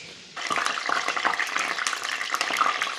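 Dried fish sizzles in hot oil in a pan, a loud, steady frying hiss with crackles that starts abruptly and carries on without talk.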